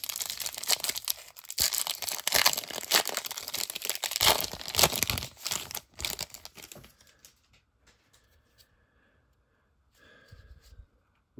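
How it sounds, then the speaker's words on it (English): Foil wrappers of 2023 Topps Series 1 baseball card packs being ripped open up close, with loud continuous crinkling and tearing for about seven seconds, then fading to quiet with a few faint rustles. "we'll go ahead and rip some 2023 Tops Series 1."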